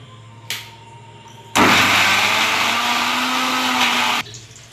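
A mixer grinder whirs loudly at high speed for a few seconds grinding pirandai chutney, then cuts off abruptly, preceded by a short clatter.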